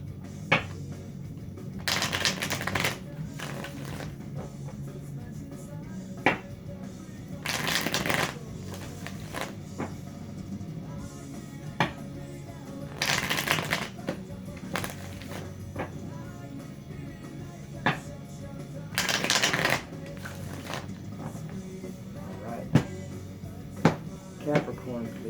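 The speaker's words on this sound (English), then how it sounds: "Let's get 4 shuffles." Tarot cards are shuffled in several quick riffling bursts spread across the stretch, crisp and close, with soft handling taps and clicks between them and talk faintly underneath.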